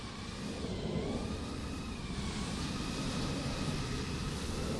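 Steady whining roar of a nearby jet airliner in Microsoft Flight Simulator at Los Angeles airport beside Southwest Boeing 737s, a continuous loud engine drone with slowly shifting tonal hum, no talk over it.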